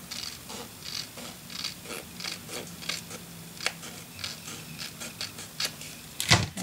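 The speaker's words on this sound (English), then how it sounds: "Now I can cut just a little more." Scissors snipping paper for a La Traviata memory box craft kit, a steady series of small crisp cuts close by, quiet and rhythmic, ending in a sharper rustle.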